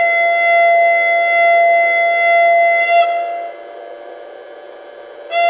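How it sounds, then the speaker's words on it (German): A high-pitched Makrofon signal horn from a 1:32 scale Vectron BR 193 model locomotive sounds a loud, steady tone for about three seconds. It dips to a quieter tone, then sounds again at full strength near the end. "Zuerst das Makrofon-Signalhorn mit hohem Ton, wahlweise als langer oder kurzer Sound."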